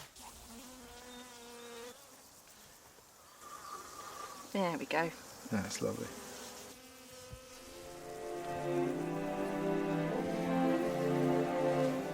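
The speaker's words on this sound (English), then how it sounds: "it's a lovely bumblebee with a very bright red tail" A red-tailed bumblebee buzzes close by in a British hay meadow, a low droning hum that swells and fades, with a person speaking briefly over it.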